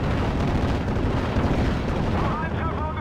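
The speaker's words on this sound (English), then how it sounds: "Off-map artillery coming in again on my position, leaving massive craters." Off-map artillery shells in the World War II strategy game Steel Division: Normandy 44 land in a heavy, continuous barrage of booming explosions and rumbling blasts. Loud throughout, with a voice faintly heard near the end.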